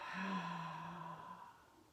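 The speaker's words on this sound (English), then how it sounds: "Take a big inhale, exhale through the mouth." A slow, audible sigh of breath pushed out through the mouth, starting with a faint voiced tone and fading gradually over two seconds, soft and close in a calm setting.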